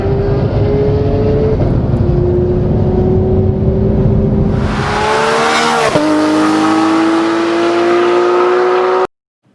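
A Porsche 911 GT3 RS with its 4-litre flat-six screams at high revs toward a 9,000 RPM limit, a loud, sustained wail whose pitch climbs, dips and climbs again before cutting off abruptly.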